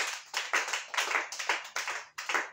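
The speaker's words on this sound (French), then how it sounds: "Oh Jésus-Christ, acclamez le Seigneur Jésus." A church congregation claps during a worship service, brisk rhythmic bursts of hand claps in quick succession, close and fairly loud, with no speech heard.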